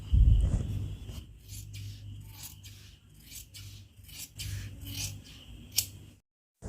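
Scissors snip through petticoat cloth in a series of close, crisp cuts, each a short rasping crunch with small rustles between, ending in a final snip and a moment of silence.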